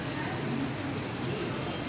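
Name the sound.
heavy rain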